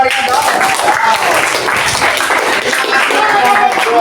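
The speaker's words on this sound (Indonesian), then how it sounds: "Kasih tepuk tangan yang meriah dong." A classroom of students claps together after a presentation, loud and continuous with scattered voices and chatter mixed through the applause.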